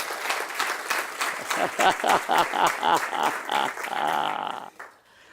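A church congregation applauds for Jesus, a loud burst of clapping mixed with voices and cheering that swells, then cuts off near the end.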